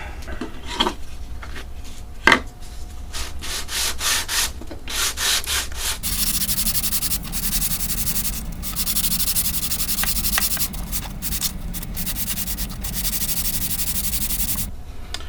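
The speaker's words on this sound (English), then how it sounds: "So I'm going to give it a light sand." A wooden key board is lightly sanded by hand, with brief rubs and a sharp knock early on, then continuous close scratchy back-and-forth strokes across the grain, with no talking.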